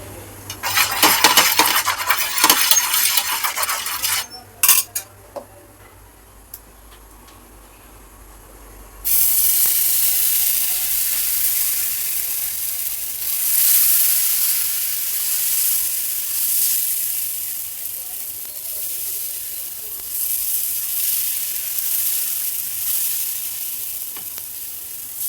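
Brief clatter of utensils and a pan, then oil added to a hot pan for a moong chana dosa sets off a steady, close sizzle that swells and continues.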